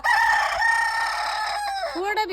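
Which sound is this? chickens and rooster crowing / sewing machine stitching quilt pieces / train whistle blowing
chickens and rooster crowing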